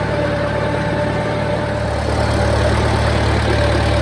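A 1953 Farmall Super C tractor engine runs at a steady, loud, close-up chug with a constant low throb and mechanical vibration, with no voices over it.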